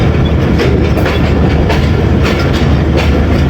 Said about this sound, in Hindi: चलो जी, महमूद कोर्ट से डिपार्ट कर चुकी है हमारी 1 to 8 डाउन महर एक्सप्रेस।